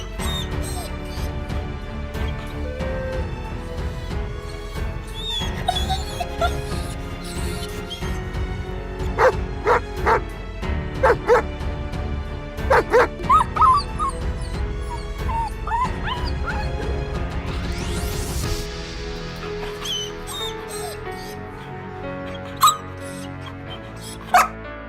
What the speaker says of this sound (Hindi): और तभी एक कुत्ता बाबा के ऊपर जोर जोर से भौंकने लगता है।